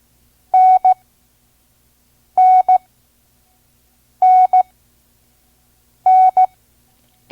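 Morse code letter N sent at a slow training speed plays as four repetitions of a steady pure tone, each a longer dash followed by a short dot, separated by silent gaps.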